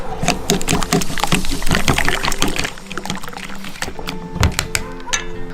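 Eggs mixed with a shot of Sprite are beaten in a bowl for Korean rolled omelette (gyeran mari): quick, rhythmic clinking and sloshing strokes, close and fairly loud, slowing briefly near the end.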